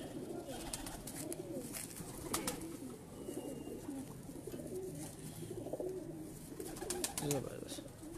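Breeder pigeons in a loft give soft, repeated low coos at close range, with several birds overlapping against rustling and background noise, and a voice speaks quietly at times.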